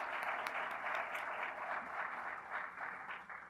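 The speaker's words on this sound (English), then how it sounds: "Can you all join me in giving everybody a round of applause?" Steady applause fills a room at a housing forum, many hands clapping at an even, moderately loud level before tapering slightly at the end.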